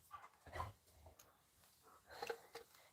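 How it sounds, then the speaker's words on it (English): A neighbor's dog barks and whimpers at a distance, a few faint, scattered yelps and woofs with quiet gaps between them. "They heard a neighbor's dog bark, so they started getting all fired up."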